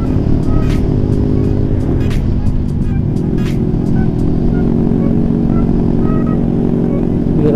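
Motorcycle ride on a Honda CB150R or Yamaha Scorpio 225, a loud steady engine drone with wind rush recorded on board, punctuated by short clicks and bursts, continuous for several seconds.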